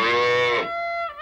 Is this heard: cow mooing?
yes